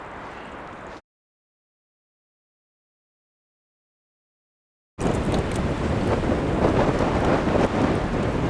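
Strong wind buffeting the microphone, a steady rushing roar after a brief gap of silence, loud and close with no talking.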